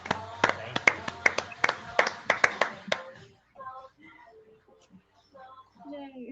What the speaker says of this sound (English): Can we get a round of applause for the ladies?